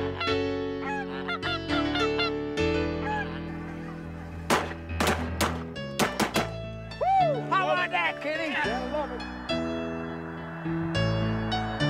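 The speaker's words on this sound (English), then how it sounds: "millions of water birds use the rainwater basin for resting and feeding each spring." Water birds in a south central Nebraska wetland, with loud honking geese calling repeatedly in overlapping bursts close by, over a steady background of mixed bird calls.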